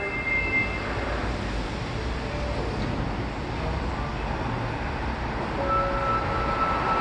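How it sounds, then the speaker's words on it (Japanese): A Kita-Osaka Kyuko 9000 series train departing Shin-Osaka station: steady rolling hum and rail noise with faint tonal whine, continuous and moderately loud throughout, no talk. "電車が発車します。ご注意願います。"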